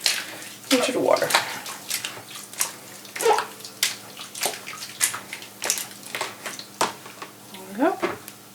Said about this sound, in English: And we're putting the skeins back and rinsing them once more.